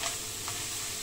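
A blended mixture of mushrooms, celery leaves and garlic sizzles steadily in a wide pan, a close, even frying hiss with a faint stir partway through.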